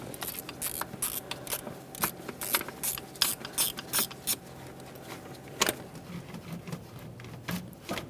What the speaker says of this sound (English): Now we can get that final bolt right in the bottom center.